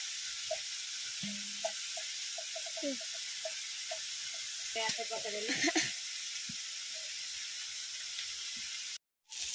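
Onions frying with turmeric in a pan, a steady close sizzle and hiss running throughout with occasional soft stirring scrapes and a brief cut near the end.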